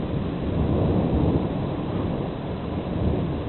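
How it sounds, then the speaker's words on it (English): Continuous rolling thunder during a hailstorm, a dense, unbroken low rumble with steady rain-like hiss, loud and sustained without a break. "Thunder everywhere."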